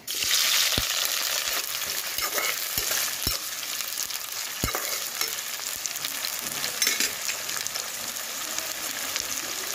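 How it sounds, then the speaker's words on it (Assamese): Chopped onions fry in a pan with a steady, even sizzle, broken by sharp clicks and scrapes as a utensil stirs them every second or so. "পিঁয়াজখিনি অলপ ফ্ৰাই কৰি ল'ম"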